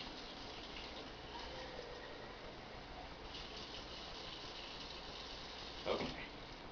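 Water pours into a baby bottle in a steady, quiet hissing trickle that runs continuously, with a brief louder splash or knock near the end and no voices.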